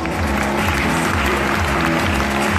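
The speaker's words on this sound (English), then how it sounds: "Let's give them another round of applause." Loud, dense audience applause for the judges at a Mister Philippines pageant final night, a continuous roar of clapping with crowd noise and a musical tone beneath, filling the whole stretch.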